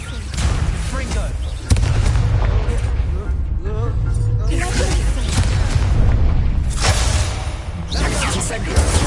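In the video game Hogwarts Legacy, a Confringo explosion spell goes off with loud booming blasts and whooshes amid continuous combat noise, with a voice speaking over the action.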